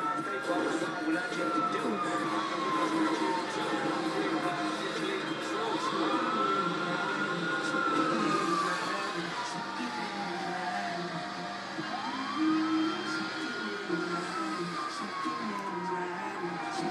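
A wailing ambulance siren in GTA 5 Online sweeps up and down in long slow cycles while off-roading, moderately loud over a steady engine rumble and background noise.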